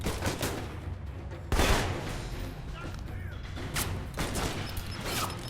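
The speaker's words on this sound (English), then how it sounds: "I do realize somebody's shooting at me" Enemy gunfire in the video game Alpha Protocol, sharp repeated shots in scattered bursts over a continuous rumble of combat, with someone talking over it.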